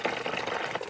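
Water filling from a shed tote, a brief close gurgling rush of flowing liquid that is steady and fairly loud for under a second.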